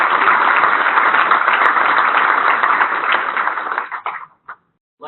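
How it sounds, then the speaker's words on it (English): An audience at the NY-GEO 2018 conference opening session applauds sponsors, a dense, steady clatter of clapping for about four seconds that thins out into a few scattered claps. "let's have a round of applause for those sponsors"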